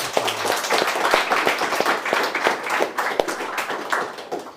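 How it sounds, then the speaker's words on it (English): Audience applause closing a technical talk on Lonboard geospatial visualization, with distinct sharp claps from a smallish group standing out over a continuous patter, fairly close and loud. "Big round of applause."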